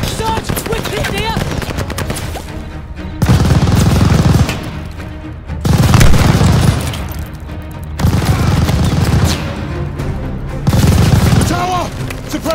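Machine gun fire in Call of Duty: Vanguard, loud bursts of automatic fire alternating with brief lulls in a busy battle soundscape, with shouted voices mixed in.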